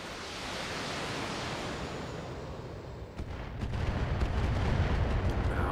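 Dense, continuous roar of weapons fire and explosions from a BattleTech mech battle, steady and heavy throughout, swelling louder in the final seconds with sharper impact bursts.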